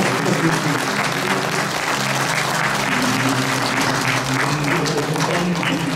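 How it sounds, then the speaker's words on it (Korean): Audience at a memorial ceremony applauds warmly, a steady, dense wash of clapping that holds loud and even from start to finish with no voices over it. "우리 어르신들 다시 한번 뜨거운 박수 부탁드립니다"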